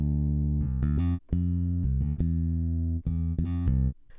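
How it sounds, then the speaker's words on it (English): Ample Bass P Lite, a software electric bass instrument, plays a short clean line of distinct plucked notes with deep sustained tones and brief gaps between phrases, alone without talk. "this is a great electric bass software instrument that really has a great sound"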